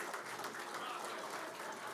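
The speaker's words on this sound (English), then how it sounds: "Let's have a round of applause for these 18 models" Faint, distant applause from an audience at a residents' fashion show, an even patter of clapping that stays soft and continuous throughout.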